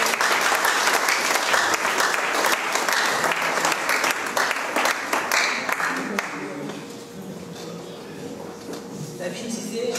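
A church congregation bursts into loud sustained applause and cheering, a dense wash of clapping that fades after several seconds into quieter murmuring and scattered claps as voices continue.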